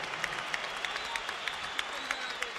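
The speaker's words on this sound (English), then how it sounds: "let's have a round of applause for these two heavyweights" An arena crowd at a heavyweight boxing match at the Trump Plaza Hotel and Casino in Atlantic City applauds in a steady wash of clapping, with sharp individual claps popping through the texture.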